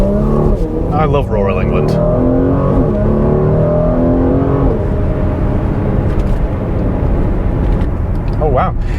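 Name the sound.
Mercedes GLC43 AMG engine, 9-speed automatic downshifting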